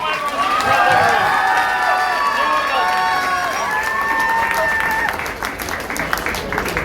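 A large crowd at a political rally in Sirsa claps and cheers loudly, with shouting voices rising over continuous applause that eases slightly toward the end.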